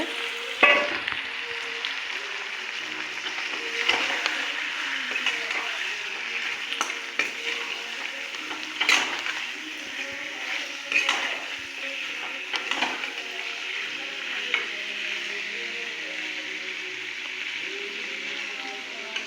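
Meat sizzles and fries steadily in a hot pan, with occasional stirring scrapes and clatters over a continuous crackle, close and without talk.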